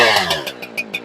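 A chainsaw bucks a log in half, a brief, close, loud motor buzz that sputters into rapid pulsing bursts as the cut ends.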